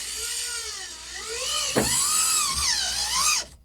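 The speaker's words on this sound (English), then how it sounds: "this drill rudely interrupted me." A high-pitched power drill whines continuously, its pitch rising and falling as the speed changes, before cutting off abruptly at the end.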